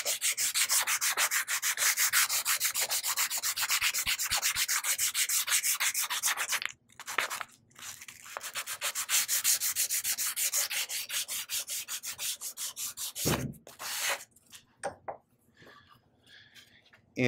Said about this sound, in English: take 120 grit sandpaper. I'm just going to rub it over like this.